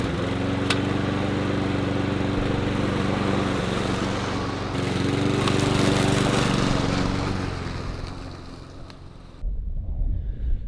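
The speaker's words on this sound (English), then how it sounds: "get the lawnmower out and get some of this grass cut down." A lawn mower engine drones steadily while cutting long grass in an orchard, close and loud, with a wind-buffeted microphone and no voices, then cuts off abruptly near the end.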